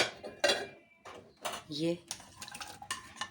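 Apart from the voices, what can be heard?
onions added to meat in cooking pot for bhindi gosht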